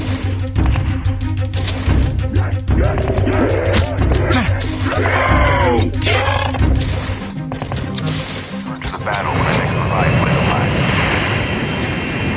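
In the Call of Duty Mobile battle royale, a revive flight aircraft drones overhead with a steady engine roar, under in-game voice callouts and gunfire clatter; the engine swells louder toward the end.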